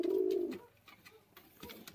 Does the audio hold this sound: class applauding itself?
no